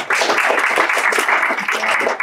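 High school students applaud their guests at a service project event, giving a steady, full round of clapping that fills the room.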